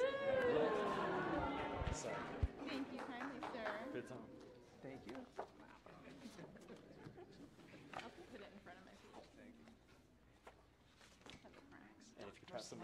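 A cat meows at the start, a drawn-out falling cry, followed by crowd murmur and scattered laughter in an auditorium during a physics talk event.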